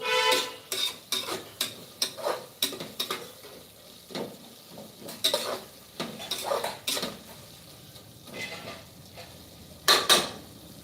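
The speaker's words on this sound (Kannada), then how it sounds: "ಚೆನ್ನಾಗಿ ಫ್ರೈ ಮಾಡ್ಕೊಳ್ಳೋಣ" Fenugreek leaves being fried with spices and coriander powder in a pan, heard as repeated scraping and clinking of a spatula against metal with soft sizzling underneath, steady stirring strokes throughout, no talking.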